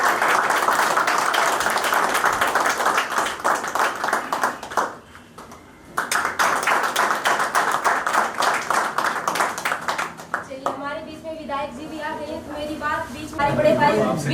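Clapping and applause from a crowd greeting the arriving MLA at a yoga center event in Sultanpur, New Delhi, loud and steady, briefly dropping before resuming, with voices mixed throughout.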